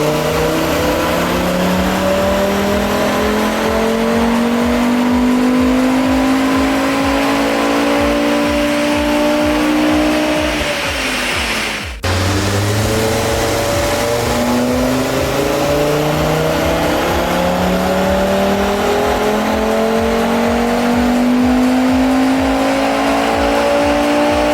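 A stage 2 tuned Audi TT RS engine revs hard and steadily through a dyno run, climbing in pitch, dropping abruptly mid-way, then winding up loudly again through the gears.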